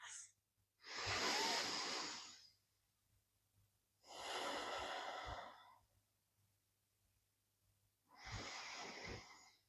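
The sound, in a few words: deep breathing during yoga practice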